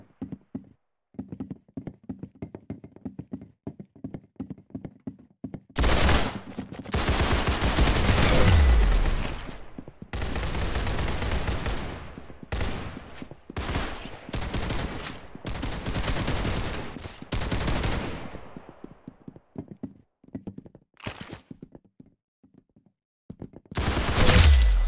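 Bursts of gunfire in a shooter video game, rapid loud volleys separated by short pauses, some long sustained strings of automatic fire and a few single shots, with no talking.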